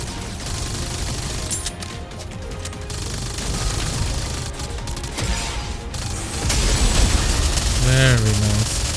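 Rapid video-game gunfire aimed at purple targets in a solo raid, bursts of shots and mechanical clatter rising and falling over a busy background, with a short tonal sound effect near the end.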